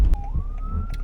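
Ambulance siren passing on a road near a truck, a single rising wail tone sweeping upward over low engine rumble, brief and moderately distant.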